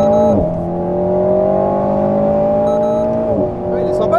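A Lotus Exige sports car drives past on a race track, its engine note loud and rising, then dropping sharply as it goes by, with voices talking alongside.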